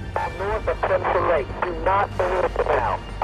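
A crackling, breaking-up radio transmission in Battlefield 4 carries a garbled voice through static and dropouts, with a low steady hum underneath, sounding close and choppy.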